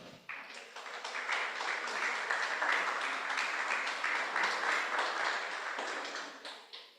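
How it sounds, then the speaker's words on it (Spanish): A church congregation applauds, a steady, fairly dense wave of hand clapping that starts suddenly and carries on evenly for several seconds before tapering off. "Denle un aplauso al Señor."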